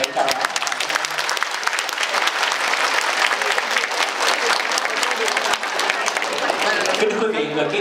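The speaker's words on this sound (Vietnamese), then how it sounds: "Xin mọi người chúng ta cho một tràng pháo tay để chào." A crowd applauds steadily and loudly for several seconds, dense clapping filling the space before it tapers off near the end.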